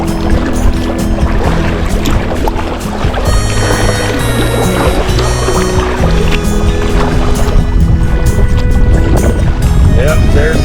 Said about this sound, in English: Yep, there's the wind. There it is. It's cutting into me now.